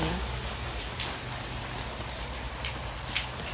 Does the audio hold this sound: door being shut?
no